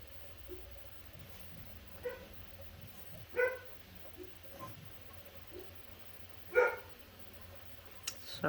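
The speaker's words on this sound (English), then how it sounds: "Sorry about the dogs." Dogs barking outdoors on a windy day, with several scattered, fairly distant barks and yips spread across the stretch over a steady low wind rumble.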